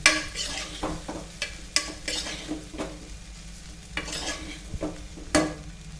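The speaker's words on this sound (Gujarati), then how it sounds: "જો સરખા મિક્સ ન થયા હોય તો આવી રીતના તમારે ચમચેથીને સરસ મિક્સ કરી લેવાના." A spoon stirs and scrapes batata poha inside a pressure cooker, repeated uneven metallic clinks and scrapes over a soft sizzle, close by with no voices.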